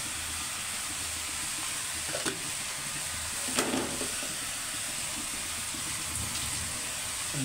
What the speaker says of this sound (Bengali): ভালো মতো নেড়ে চেড়ে নেবে।